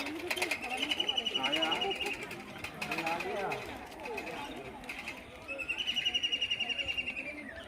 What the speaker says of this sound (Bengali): কি ভালো পাখির আওয়াজ।